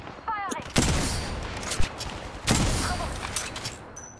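Gunfire in the video game Apex Legends: sharp bursts of shots at about 0.8, 1.8 and 2.5 seconds, with scattered quieter pops between them and some faint voice sounds.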